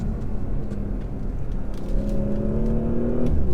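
A 2019 Porsche Macan S SUV accelerating from inside the cabin, a low engine rumble building steadily as a rising whine climbs in pitch, growing louder toward the end before easing off.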